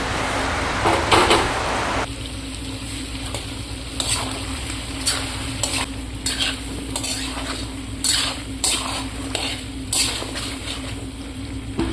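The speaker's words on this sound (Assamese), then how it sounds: "এইখিনি অকণমান সময় ভাজি ল'লোঁ প্ৰায় 10 মিনিটমান সময় মই ভাজি লৈছোঁ" Steady sizzling of broiler chicken frying in a pan, with repeated scraping and stirring strokes and occasional clinks of a utensil.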